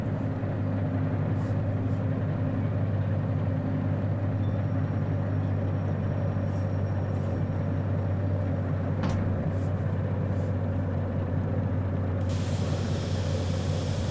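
A steady, low locomotive engine idles in the train game Derail Valley, humming continuously with a rough, car-like tone and a faint hiss joining near the end, with no voices over it.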